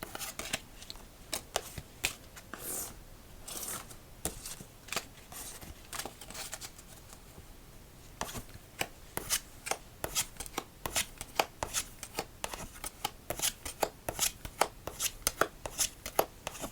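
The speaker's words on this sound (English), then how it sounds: "Right as we shuffle up," Playing cards are shuffled repeatedly for a solitaire game, with crisp riffling bursts and soft, papery slides recurring in a steady rhythm, close and clear with no voices.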